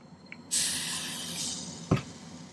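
A sharp, hissing burst from a spray bottle lasting about a second, followed by a short thud, close by in a quiet space.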